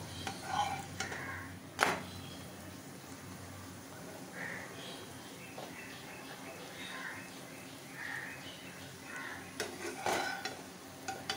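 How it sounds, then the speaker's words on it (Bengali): Lachha paratha frying one at a time in a kadai: a soft, low sizzle with scattered spatula scrapes and clinks, louder metallic knocks near the start and end, and no talking. "তারপর এগুলো কড়া একটা একটা করে ভেজে নেব।"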